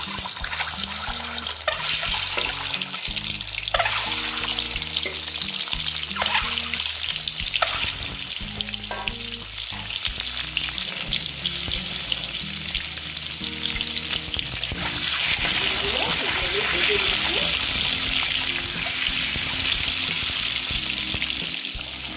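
Eggs coated with salt and turmeric sizzle and crackle continuously in hot oil in a pan, a loud, dense frying hiss with occasional stirring and bubbling, no voices.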